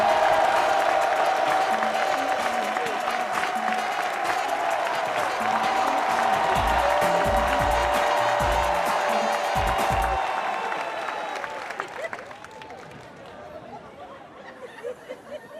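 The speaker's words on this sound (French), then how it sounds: "On fait un tonnerre d'applaudissements, s'il vous plaît" An audience at a live comedy show breaks into sustained clapping and cheering with scattered chatter, holding strong for about ten seconds before tapering off to a quieter murmur.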